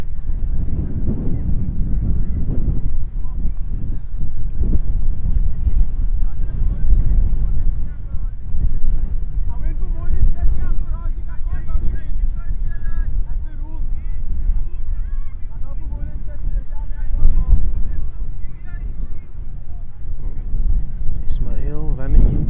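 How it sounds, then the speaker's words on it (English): Wind gusting across an outdoor cricket ground during a first-division club match, a steady low rumble buffeting the microphone throughout, loud and close, with match commentary running over it. "as the wind picks up again."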